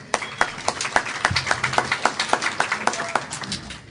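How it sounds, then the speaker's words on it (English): Audience at an AA speaker meeting clapping in a steady, evenly spaced rhythm of sharp claps, moderately loud and sustained, with no talking over it. "it's hardly my applause, that one. It's ours."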